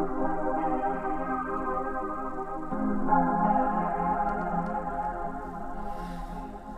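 A deep house style synth chord patch made in the Razor synthesizer: sustained, warm layered chords that shift once partway through, playing alone at a moderate level.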